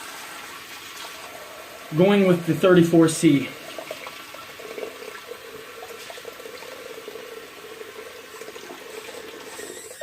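A faucet runs at a bathroom sink during a wet shave with a safety razor, a steady low wash of water heard under a man's brief spoken remark.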